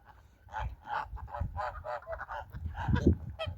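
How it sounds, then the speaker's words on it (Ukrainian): Several geese honk loudly and repeatedly, overlapping calls with a harsh nasal quality, close by, one burst louder near the end. "Гусаки між собою починають вже виясняти стосунки."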